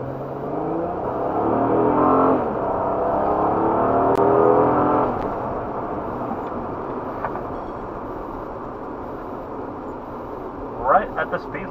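A 2014 Honda Crosstour fitted with a K&N Typhoon intake is pushed hard, its engine note rising loudly over several seconds before easing off, with a few faint clicks near the end.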